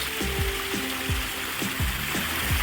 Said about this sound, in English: Fish are happy, the waterfall's running again, and so am I.